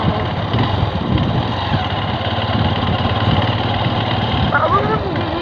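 A motorcycle engine idles steadily on a seaside dike, its low continuous rumble running throughout with wind noise and people talking nearby.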